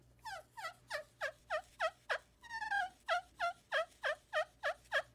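A friction turkey call worked with a cedar striker gives a run of about a dozen quiet, smooth yelps in a steady rhythm, with a brief break for a quick series of clucks and purrs partway through. The yelps are up close and clear, and nobody talks.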